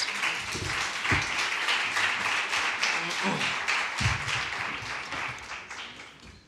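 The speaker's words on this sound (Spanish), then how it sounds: "os pido un aplauso para todos ellos" An audience at an education conference in Madrid applauds a school's students and staff, a full, lively round of clapping with a few louder individual claps, gradually fading toward the end.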